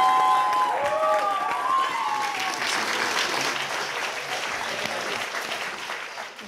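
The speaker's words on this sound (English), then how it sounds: "Put your hands together, make a lot of noise for Miss Popcorn." A live audience at a spoken-word poetry event claps and cheers, opening with a couple of whistles, then dense applause that holds steady and slowly fades toward the end.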